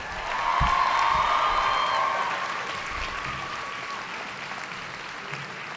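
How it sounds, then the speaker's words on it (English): Applause at a 2017 high school graduation ceremony, a broad crowd clapping with a few whoops and cheers, swelling early then tapering into a softer steady patter. "Let's give her another round of applause."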